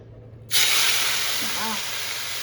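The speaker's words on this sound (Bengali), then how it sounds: "চলো ভাজতে দিই, গরম হয়ে গেছে" Small mourala fish drop into hot oil with an abrupt, loud hissing sizzle that starts suddenly and holds steady, close at hand.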